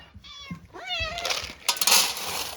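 Several cats meow close by, a few drawn-out rising and falling calls in quick succession over faint background noise.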